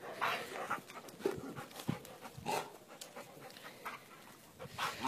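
Dogs pant heavily at close range in a home garden in the morning, quick breathy rhythms with small whimpers and sniffs, no talk over them.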